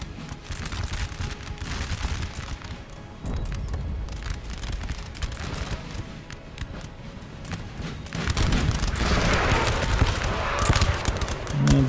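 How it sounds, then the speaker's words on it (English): Artillery strikes in the Napoleon: Total War video game, with repeated booming cannon shots and crackling musket-like volleys over continuous battle noise, some blasts louder and closer, the din building toward the end. "That's a lot of artillery strikes."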